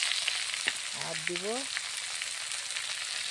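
Leafy greens frying in a hot wok give a steady, bright sizzle that runs the whole time, with a brief voice speaking over it early on.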